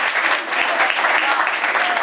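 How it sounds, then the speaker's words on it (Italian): An audience at a comedy evening in Camerota applauds in a steady, dense round of clapping that stays even throughout, with faint voices mixed in under it. "Un applauso a Don Andrea"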